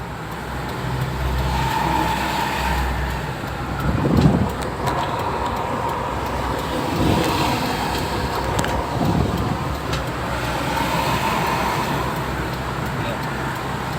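A Toyota Kijang Krista fitted with a Blackcore module cruises in fifth gear and overtakes a truck, giving a steady road and engine drone from inside the cabin. Road noise fills the sound, with occasional bumps and faint voices.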